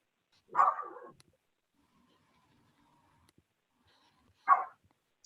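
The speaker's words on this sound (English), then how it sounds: "of course my dog will bark" A dog barks twice, each bark a short loud burst a few seconds apart, with quiet in between and no talking.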